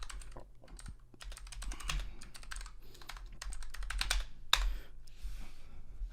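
Fingers type on a computer keyboard in quick, uneven bursts of light clicking keystrokes, close and fairly quiet, with short pauses between runs and a few louder taps.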